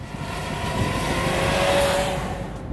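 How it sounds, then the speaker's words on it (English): A 2-litre engine in a 2025 Volvo XC90 drones steadily under load, a gruff, continuous rumble with a faint rising whine, close and fairly loud, with no talking. "The 2-litre engine isn't loud per se, but it does have a slight gruffness to it"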